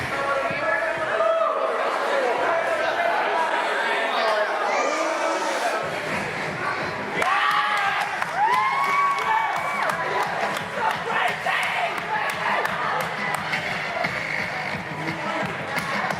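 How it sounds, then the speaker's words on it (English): A wrestling crowd at a 2014 RWA Dynasty show jeers and shouts at the wrestler Triplelicious, a steady roar of voices and yells filling the space, with an announcer talking over it. "The crowd is really giving it to Triplelicious."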